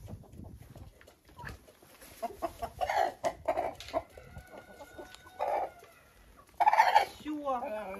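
Rooster and hens at a poultry yard giving repeated clucks and short calls at close range, with bursts of louder clucking and mild background noise between calls.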